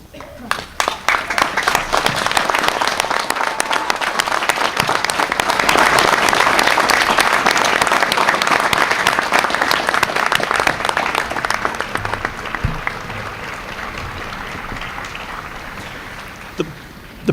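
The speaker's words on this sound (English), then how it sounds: "I ask the graduates to stand and join me in a round of applause to honor and thank them." Sustained applause from a commencement audience at a law school graduation ceremony, dense clapping swelling to a peak and holding for many seconds before gradually thinning out, with some voices mixed in.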